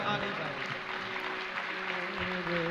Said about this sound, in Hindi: इतने ताली बजा रहे हैं